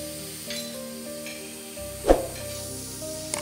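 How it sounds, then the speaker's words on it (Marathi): Coconut and onion roast in a little oil on a tava griddle, giving a soft, steady sizzle with one brief clink of a utensil partway through. "आता इथे एका तव्यावरती मी कांदा आणि खोबरं भाजून घेते थोड्याशा तेलामध्ये."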